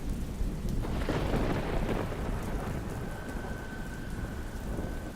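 Heavy rain pours steadily and close over a summer camping night in a forest park, with a long rolling rumble of thunder building early and fading beneath the constant downpour; no voices.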